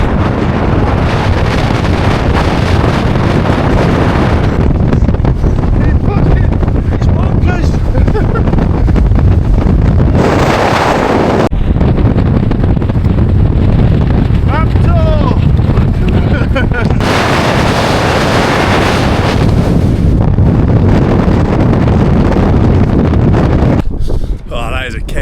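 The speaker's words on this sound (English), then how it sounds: "It's always windy on this ridge." Heavy wind roars continuously across an exposed winter ridge at Hollins Cross in the Peak District, pounding the microphone with loud gusts that ease only briefly, while people speak under it.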